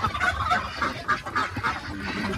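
Pekin ducks kept on a mountain farm give a run of repeated nasal, honking calls, fairly close and steady over a low background with no talk.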